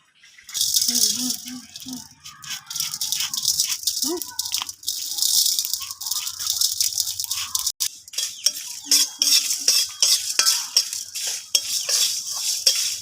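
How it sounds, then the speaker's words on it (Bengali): Panch phoron spices sizzle and rattle in a hot kadai as they are stirred, with steady scraping and clinking of a spoon against the metal for the whole stretch, close by and fairly loud. "আমরা চুলায় কড়াই বসাই দিয়েছি। এবার পাঁচ ফোড়নটা ভাজে নেব।"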